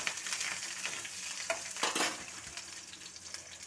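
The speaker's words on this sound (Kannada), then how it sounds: "ಆಮೇಲೆ ಹಸಿಮೆಣಸು. ಇದನ್ನು ಸ್ವಲ್ಪ ಫ್ರೈ ಮಾಡ್ಕೊಳ್ಳೋಣ." Green chilies and curry leaves fry in hot tempering oil, giving a soft, continuous sizzle with faint crackles and a brief scrape, quiet and close with no voices.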